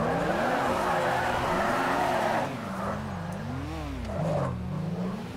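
Car in GTA V accelerating on snow, its engine revving in rising and falling sweeps with tire squeal and skidding, loud and close, easing slightly midway before surging again.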